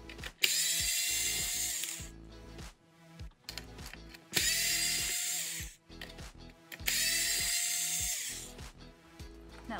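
A power driver backs out 2.5 mm servo screws on a Traxxas Slash 2WD RC truck in three close whirring bursts with a rising pitch. Short clicks and handling knocks of the parts fall between the bursts.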